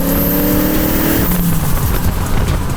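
A cheap turbocharged V8 TVR sports car roars loudly close by, its engine note rising then dropping as it revs hard and pulls away, with no voices.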